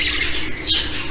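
A male show jumbo budgerigar lets out harsh, scratchy squawks up close, with one louder, sharper call near the end.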